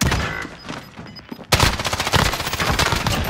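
Sustained automatic gunfire in the Warzone video game, a dense rapid burst starting abruptly partway through after quieter scattered shots, loud and close, continuing to the end with no talking.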